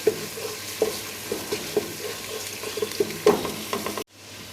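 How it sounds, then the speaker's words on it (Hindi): Garlic ginger paste softly sizzles in a pan with light stirring clicks and scrapes, fairly faint, cutting off abruptly near the end. "अब मैं इसमें 1 टेबलस्पून लहसुन अदरक का पेस्ट ऐड करूँगी और इसको 1 मिनट के लिए"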